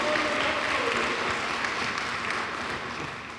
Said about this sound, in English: Give Wes a round of applause